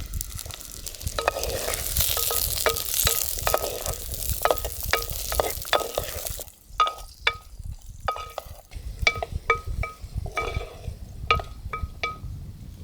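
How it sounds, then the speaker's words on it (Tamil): Two hundred grams of small shallots with a handful of ginger and garlic sauté in a little oil for a village-style chicken curry, giving a steady close sizzle with repeated sharp spatula scrapes and clinks against the pan, with no talking. "வெங்காயம் வதக்கிறதுக்கு கொஞ்சமாக எண்ணெய், 200 கிராம் சின்ன வெங்காயம், ஒரு கைப்பிடி இஞ்சி பூண்டு"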